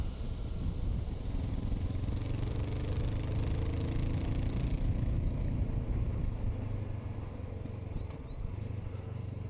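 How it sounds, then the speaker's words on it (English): A 2020 Honda CB500X motorcycle on the move, its steady engine drone blending with constant wind rush and buffeting that hold at an even, loud level throughout without any break. "my bike is a Honda CB500X 2020 model"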